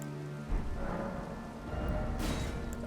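The Founding Rain of Stars spell is cast in the video game Elden Ring, a dense, rumbling, rain-like wash of magical impacts with a shimmering burst near the end, loud and continuous with no talking.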